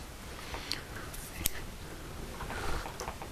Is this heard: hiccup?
no